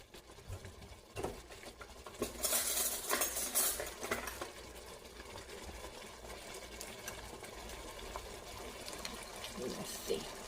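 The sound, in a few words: spoon stirring thickening chuck roast gravy in pot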